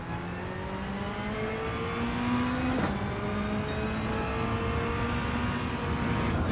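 A race car engine drones steadily on a lap of Le Mans in a racing game, its pitch climbing smoothly as it accelerates, with a brief shift blip midway, a continuous loud whine with no voices.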